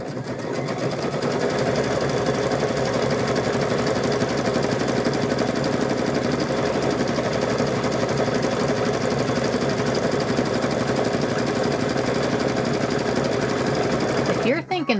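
A sewing machine stitches a patchwork gnome quilt, running in a steady, continuous rapid whir for the whole stretch before stopping abruptly at the end.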